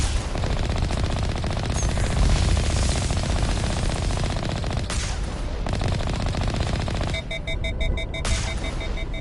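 Sustained rapid gunfire from an accurate rifle in Mass Effect Legendary Edition, a dense loud stream of automatic shots over game noise for the whole stretch, with no voices.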